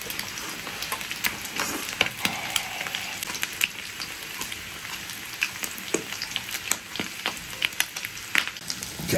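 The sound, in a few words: mutton offal sizzling on a small iron griddle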